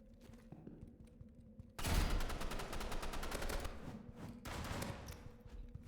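Gunfire in the Roblox game Rivals: after a quiet stretch, loud bursts of closely spaced cracking shots break out, then pause and resume, close and dominant.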